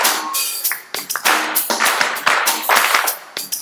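Hands clap a rhythm with conviction, sharp close claps in an uneven drum-like pattern of short bursts and pauses, loud and alone without talk.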